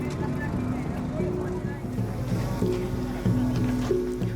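A procession of boats decorated with flags moves along near the harbour in Banggai during the Malabot Tumbe tradition, engines droning steadily with faint water sounds and voices speaking over them.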